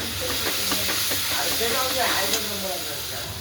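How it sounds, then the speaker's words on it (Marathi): Coriander dropped into hot oil and cooked chole masala and stirred, a steady hissing sizzle with soft scraping, close, while someone talks over it. "आपण कोथिंबीर टाकून घेऊ तेलामध्ये आणि हलवून घेऊया"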